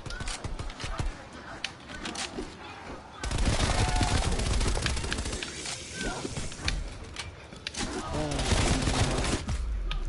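Automatic gunfire in Black Ops Cold War, rapid bursts that grow louder and denser partway through, layered with other game effects while voices talk over the shooting.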